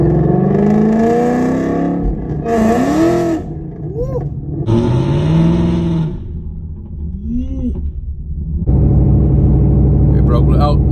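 A stick-shift-swapped 2020 Shelby GT500 with a supercharged V8 revs and accelerates hard, loud and close, with rising engine notes cut by pauses between gears and a deeper sustained roar at the end.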